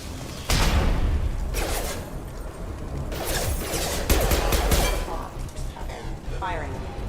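Loud, sustained gunfire in the Mass Effect 2 video game, with repeated bursts of shots and booming impacts filling the scene over game combat noise.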